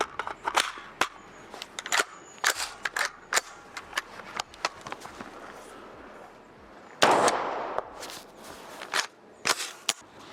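Unsuppressed subsonic .300 Blackout rounds from a BTS-15 carbine crack across an outdoor range, a scatter of sharp reports followed by one louder, ringing blast, with a few more after it.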